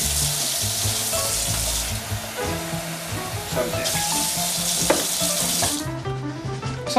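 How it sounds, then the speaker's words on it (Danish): Cold water pours from a tap into a pot of potatoes, a steady loud rushing splash for several seconds that stops near the end; a person speaks briefly over it. "vi overhælder lige med en lille smule koldt vand"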